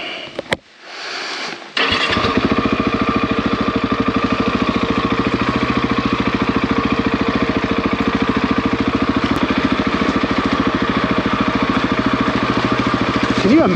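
A KTM motorcycle engine starts after a brief rustle and settles into a loud, steady, pulsing idle running close by for the rest of the clip on a southern British Columbia trail ride.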